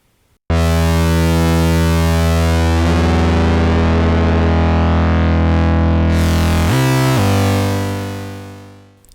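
A steady, buzzy Softube Model 72 synthesizer tone sustains loudly with a harmonically rich, slightly distorted timbre, shifting pitch once near the end before fading out.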